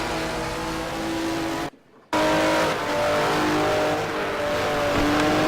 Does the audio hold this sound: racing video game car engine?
yes